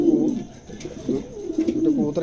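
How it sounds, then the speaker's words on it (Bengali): A pair of pigeons, a black male and an Andalusian female, coo in a soft, repeated, rolling pattern at close range, with a voice talking over part of it. "মেলটা কালো আর ফিমেলটা অ্যান্ডোলেশিয়ান, হ্যাঁ, চমৎকার দুটো কবুতরই"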